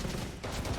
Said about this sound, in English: A lot of bullets flying forwards here, stray shots.